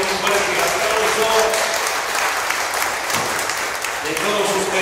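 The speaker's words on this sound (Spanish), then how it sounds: "merece un fuerte aplauso" Audience applause at a state journalism award ceremony in Oaxaca, a loud, dense and sustained burst of clapping with faint voices underneath.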